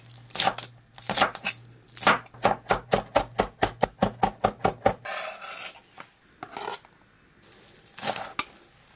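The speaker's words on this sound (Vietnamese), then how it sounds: "các bạn đập dập cái phần đầu hành và băm nhuyễn ra." Knife mincing crushed scallion heads on a cutting board, a fast run of sharp, evenly spaced chops after a few slower strikes, close and crisp, then scraping and a couple more cuts; no talking.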